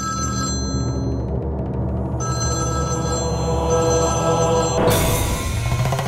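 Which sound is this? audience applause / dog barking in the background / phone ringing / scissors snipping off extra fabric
phone ringing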